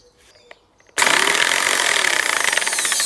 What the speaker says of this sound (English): a jigsaw just died.